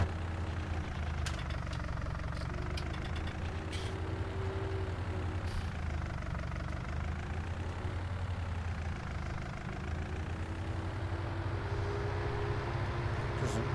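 A tractor engine idles steadily in Farming Simulator 19, a continuous low rumble with a slowly wavering drone that runs unbroken throughout, with no voices over it.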